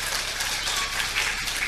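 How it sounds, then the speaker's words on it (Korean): A church congregation applauds at a thanksgiving festival service: a dense, steady wash of clapping that runs the whole brief stretch without a break. "영광의 박수를 드립니다"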